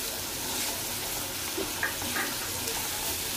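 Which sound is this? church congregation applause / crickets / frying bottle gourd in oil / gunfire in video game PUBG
frying bottle gourd in oil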